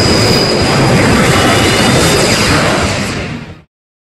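The Forever Train from the Star Fox 64 video game gives a loud, continuous roaring rumble with a faint high whine running through it, then cuts off abruptly near the end.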